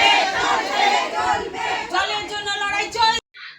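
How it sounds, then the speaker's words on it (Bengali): A crowd of women protesting a drinking water shortage at ECL's Lower Kenda colliery, with many voices shouting and chanting together in a dense, loud, continuous roar that cuts off abruptly near the end. "ইসিএল এর লোয়ার কেন্ডা কলিয়ারিতে একত্রিত হয়ে বিক্ষোভ দেখান মহিলারা"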